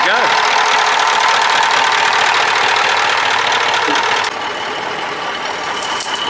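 A Cummins 903 diesel engine in a Ford LNT 9000 truck runs steadily with a loud, rough mechanical drone that drops slightly in level partway through.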